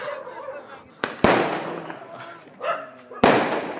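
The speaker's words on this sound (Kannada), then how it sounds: "ಪಟಾಕಿ ಹೊಡಿತಾ ಇದ್ದಾರೆ ಗೈಸ್." Firecrackers go off at a New Year party, with two sharp, loud bangs about two seconds apart and a softer pop between them, each trailing into a crackle over a murmur of nearby voices.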